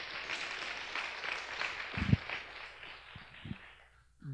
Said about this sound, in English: Come on, clap your hands this morning.